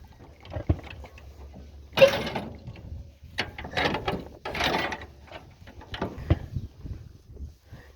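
A pickup chain being refitted onto a grass-cutting machine, giving irregular metallic clanks, rattles and ratcheting scrapes in close bursts with short pauses between, no talking.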